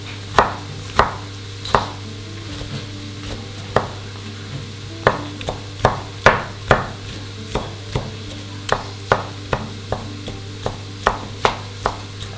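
Tomatoes chopped on a board with a knife, about twenty sharp, close cuts at an even, unhurried rhythm over a low, constant hum.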